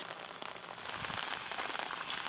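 Rain patters steadily on an umbrella while walking along a pilgrimage route in Kochi, Shikoku, a dense, close crackling hiss with no talk.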